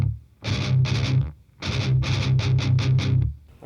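Palm-muted distorted electric guitar chugs through a riff, tight choppy bursts in quick groups separated by short gaps, close and loud with no voice over it.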